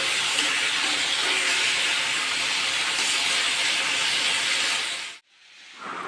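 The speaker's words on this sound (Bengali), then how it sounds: "ওইদিকে আলু ডাঁটা কষানো হচ্ছে, আর এদিকে মাছ ভাজা কমপ্লিট।" Rohu fish fries in oil while potatoes with stems are sautéed alongside. A loud, steady sizzling hiss fills about five seconds, then cuts off abruptly before a brief quieter tail.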